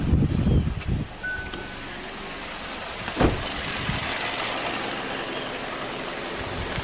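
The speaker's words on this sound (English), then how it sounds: "we're gonna start the vehicle and see exactly if anything sticks its head out" 2017 Kia Sportage with an extended-crank and stalling fault, starting and then running with a steady engine drone, preceded by some handling bumps, close and fairly loud.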